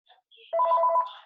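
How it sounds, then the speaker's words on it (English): A telephone rings during a spoken talk, sounding as a steady electronic warbling trill with fast pulsing that holds for about half a second after brief faint tones. "this phone is bothering right now"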